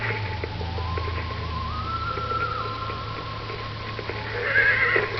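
A horse in Red Dead Redemption neighs with a wavering whinny over the clip-clop of hooves and a low steady hum, the call rising again near the end.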